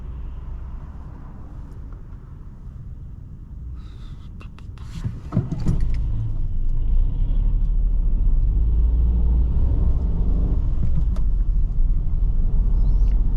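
A car engine revs up and rumbles steadily close by, with a brief burst of clatter partway through and a continuous road drone throughout.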